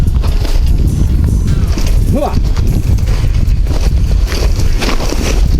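A working horse plodding while ploughing a potato field, slow hoof steps heard under loud outdoor noise, with people talking and calling commands throughout.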